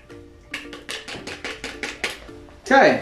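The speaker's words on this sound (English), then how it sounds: "Give it a quick stir, just to make sure that the yeast goes into the bottom." A spoon stirring dry yeast into a cider wash in a fermenter, a quick series of about eight rhythmic knocks and scrapes, close and clear, ending in a louder rustling burst.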